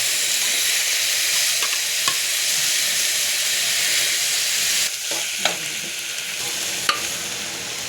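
Ginger, garlic, whole green chillies and three chopped tomatoes frying in a pan for a chicken gravy give a steady, loud sizzle, broken by a few light stirring scrapes and taps near the end.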